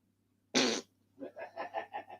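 A single loud, sharp fart bursts out of silence, followed after a brief pause by a string of five or six softer, rhythmic pulsing bursts.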